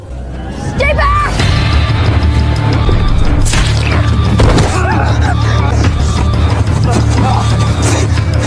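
Gunfire and impacts in a tense film scene where people shelter behind cover, loud and dense throughout, layered with rumbling score and effects.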